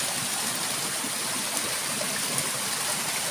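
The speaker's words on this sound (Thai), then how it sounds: "พามาชมน้ำตกอยู่บริเวณ วัดพุทธเบี้ยนบ้านอ่างตำบลนาตาลนี่มีน้ำตกสวยงามเลย" A waterfall behind a Buddhist temple in a hilly village rushes as a steady, dense hiss of falling water, close and continuous with no pauses.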